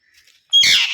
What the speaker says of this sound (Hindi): आज हमारा तोता बहुत मजे कर रहा है